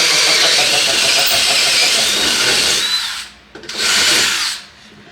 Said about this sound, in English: But it is aluminum, so it should drill nice.